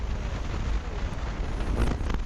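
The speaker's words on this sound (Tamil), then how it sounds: "சாரல் காற்று பயங்கரமாக அடிக்குதா" Strong misty wind buffets the microphone during a motorbike ride on a hill road toward Palani, a loud, gusty low roar with brief surges near the end.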